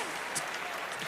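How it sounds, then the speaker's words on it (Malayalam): A brief burst of audience clapping at a Pathanamthitta Jilla Sangamam expatriate community concert in Jeddah, a dense steady patter lasting about a second. "ഈ ഒരു കയ്യടി പോരാ."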